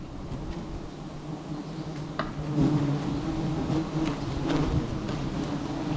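Giant honeybees swarm around a low-hanging nest after it has been scraped off, their steady droning hum continuous and close, swelling slightly louder midway with a few sharper passes near the microphone.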